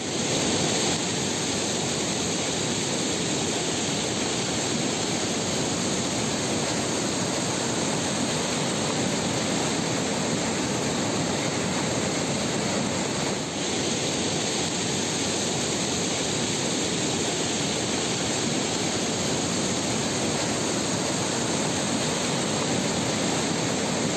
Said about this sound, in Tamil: கோவை குற்றாலம் அருவிக்கு வரும் நீரின் அளவு அதிகரித்து உள்ளது